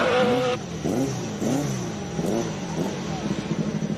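A racing engine revving to 11,000 RPM at a hillclimb event surges hard in several rising and falling bursts, loud and close, with a voice talking faintly underneath.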